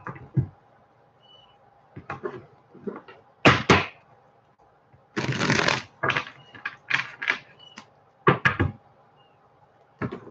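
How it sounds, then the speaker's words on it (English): A deck of tarot cards is shuffled in bursts, with crisp riffling and soft slaps scattered among quiet gaps, close and fairly clear. "I'm going to shuffle this 2 times"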